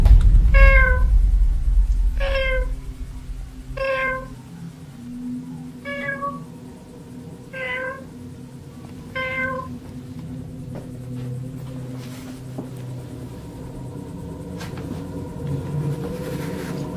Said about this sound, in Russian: Уже неоднократно слышал мяуканье.